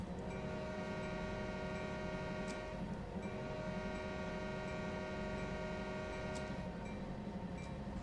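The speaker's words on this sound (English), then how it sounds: "What about another freight train?" A freight train in Train Sim World 5 rumbles past steadily with a continuous mechanical drone and sustained tonal hum, holding constant loudness throughout with no voices.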